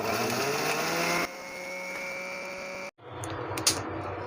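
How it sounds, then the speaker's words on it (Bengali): An electric blender grinding garam masala spices, a loud steady whirring drone that changes pitch partway through, cuts out briefly, then starts again with some rattling. "মশলাগুলো ব্লাইন্ডার করে ফেললাম"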